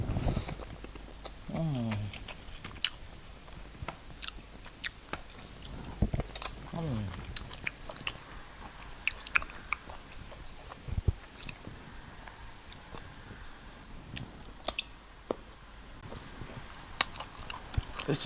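Close-up wet chewing and biting come from someone eating paper rice and snail stew in a mukbang, with irregular smacking and crunchy bites over a quiet room background.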